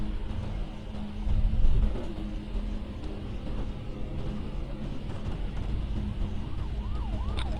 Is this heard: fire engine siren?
yes